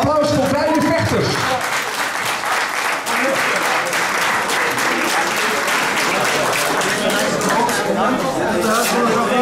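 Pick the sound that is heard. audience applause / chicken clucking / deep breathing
audience applause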